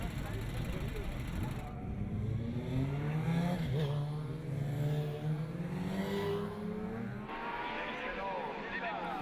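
Racing motorcycles roar off the line at the start of a Promosport race at Carole, a loud sustained engine whine rising and shifting in pitch, with a commentator talking over it.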